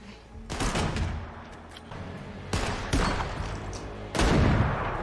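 Gunshots in a tense scene from The Last of Us TV series, several loud bursts of fire spread over a few seconds, each decaying into a rumbling echo, heard alone without talk.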